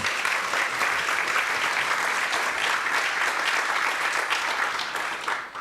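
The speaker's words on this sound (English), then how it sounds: "Can we give them a round of applause as well?" Audience at an evening book event with author Rick Atkinson gives a sustained round of applause, a full, even roar of many clapping hands that holds steady before easing at the very end.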